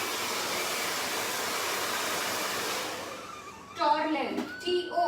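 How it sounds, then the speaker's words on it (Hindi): A Torlen hair dryer blows in a steady, loud broadband whoosh during a haircut session, then cuts off partway through, leaving short bursts of nearby talk. "टॉरलेन कंपनी का है ये ड्रायर"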